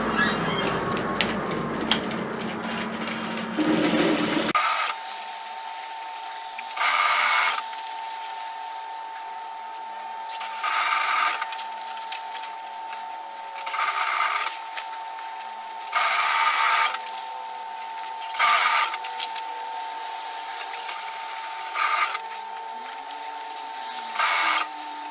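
Sewing machine stitching a seam on a messenger bag, running in a series of short, steady bursts separated by quiet pauses, with a constant faint whine underneath; no talking.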